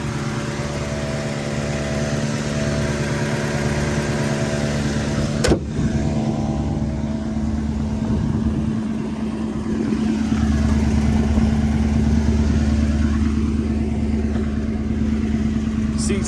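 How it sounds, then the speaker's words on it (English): A 1984 Mercedes-Benz 500SEC European-spec V8 with about 116,000 miles idles steadily with an exhaust leak from a hole in the passenger-side exhaust, a continuous low rumble with a brief sharp click midway and a slightly louder stretch afterward. "The passenger side has a hole at the top, so that exhaust leak needs to be repaired."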